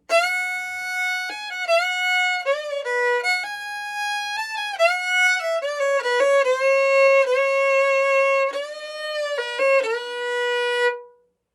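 A bright bowed fiddle plays a quick solo with fast runs and sustained double stops, solo and clear, ending abruptly.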